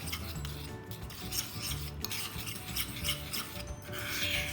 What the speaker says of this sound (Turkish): Hepsini güzelce birbirine karıştırıyorum.